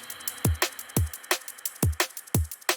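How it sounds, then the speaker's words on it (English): A punchy drum loop with deep kicks and crisp snare hits repeating in a steady, even rhythm, loud and dry. "how do you go from a drum loop, which sounds like this"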